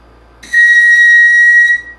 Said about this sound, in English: if you put your mouthpiece here and you just blow